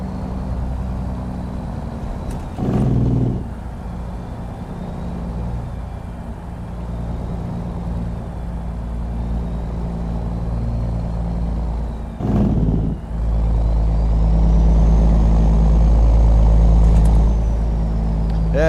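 A heavy truck in American Truck Simulator drones with a low engine rumble and a whistling turbo that rises and falls, broken by a couple of short bursts of air release, the engine note swelling louder in the final stretch.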